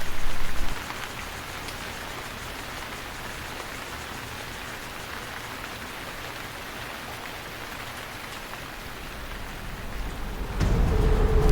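Steady rain falling in Taiwan at the start of the wet season, a dense, even hiss of drops on surfaces that holds for about ten seconds, with a louder, rumbling patch at the very start and end.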